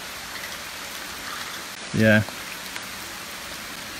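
Steady rain falls at Eternal Flame Falls, a broad continuous hiss of drops on surfaces lasting throughout, with a brief spoken word partway through.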